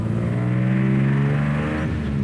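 A 1956 Chevy 210 six-cylinder engine with split dual exhaust idles steadily with a deep, throaty exhaust rumble, close and loud, holding a constant low note throughout.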